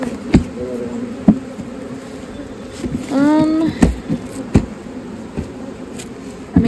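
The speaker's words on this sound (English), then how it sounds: "Oh, that's a lot of bees." Honey bees swarming thickly at a hive, a steady close buzz with individual insects droning past the microphone and a brief louder flyby near the middle.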